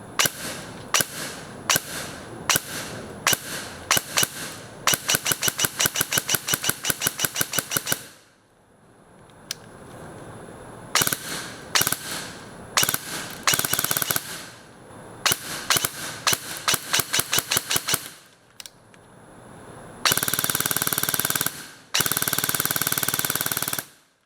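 An ASG CZ Scorpion EVO airsoft SMG loaded with 0.25 gram BBs fires loud, sharp bursts of rapid shots, from short rattles to long sustained strings, with brief quiet gaps between volleys.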